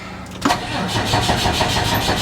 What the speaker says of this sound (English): going to try to start this again